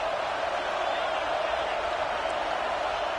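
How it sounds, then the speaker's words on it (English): A college football stadium crowd at Texas A&M vs Texas keeps up a dense, unbroken roar, loud and steady, with a commentator talking over it. "Man, this crowd really affecting the football game"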